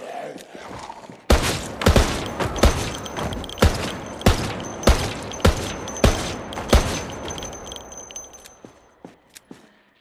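Gunshots from a firearm in Project Zomboid ring out in a slow, steady series of about a dozen sharp, loud cracks, each followed by a short decay. Faint ambient game noise sits between the shots.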